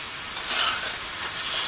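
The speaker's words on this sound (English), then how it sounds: "That paste really boils right up." Miso maple glaze paste bubbling and sizzling in a pan, a steady close hiss with soft popping swells and no talking.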